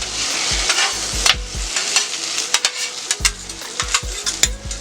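Jambalaya sizzling on a Steelmadeusa griddle, a steady close fry with repeated sharp scrapes and clacks of a spatula stirring and flipping the food.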